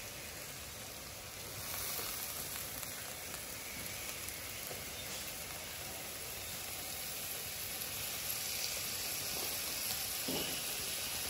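Fatty lamb breast sizzling in a pan of oil already holding fried carrot and onion for Uzbek plov, a steady crackling hiss that swells as the meat goes in and keeps going, fairly quiet, with no one talking.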